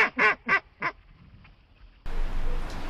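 A duck quacks four times in a quick, loud series, followed by a stretch of steady, rushing outdoor noise.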